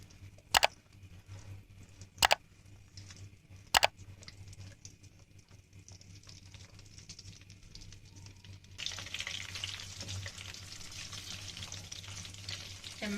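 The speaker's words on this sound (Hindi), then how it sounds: "चम्मच चलाते रहेंगे और इनको फ्राई करते रहेंगे।" Green chillies frying in a pan, a low steady sizzle broken by three sharp clacks of a spoon, then a louder, denser hiss and crackle as they are stirred.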